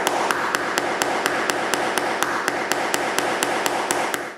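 Metal bushings being tapped into a wooden dowelling jig, about eighteen sharp, evenly spaced taps over a steady background hum, close and fairly loud.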